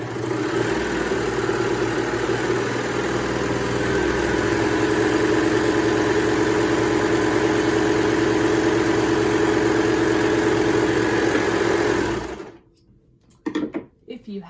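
A serger sews a long tube of knit fabric with a steady, close, loud mechanical whir that runs for about twelve seconds, then stops abruptly, leaving a few faint handling clicks.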